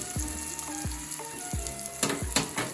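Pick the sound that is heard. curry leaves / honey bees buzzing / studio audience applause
curry leaves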